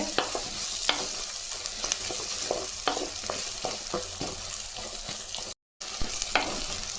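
Garlic cloves fry in hot oil for a spicy taro root curry, a steady close sizzle with occasional stirring clicks and scrapes throughout.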